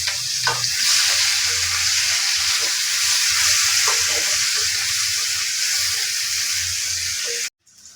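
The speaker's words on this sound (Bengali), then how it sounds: "গরম তেলের মধ্যে আমরা কিছু পেঁয়াজ কুচি আর মরিচের কুচি দিয়ে দিচ্ছি" Chopped onion and chili sizzle steadily in hot oil, a loud continuous frying hiss with occasional stirring clinks, then cutting off abruptly near the end.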